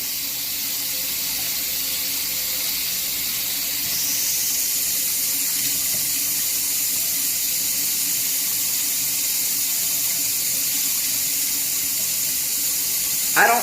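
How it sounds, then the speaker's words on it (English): Water from a sink tap runs steadily and loudly while hair is washed and the scalp scrubbed by hand, a continuous close hiss with slight shifts in the flow. "I wash her hair one good time"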